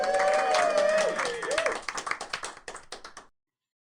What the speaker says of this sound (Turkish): saniyeyi büyüttü ve daha yavaş olarak alkış yaptı